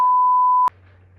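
A steady, loud censor beep tone, the kind used to bleep out words, holds for about two-thirds of a second and then cuts off sharply, leaving a low hum.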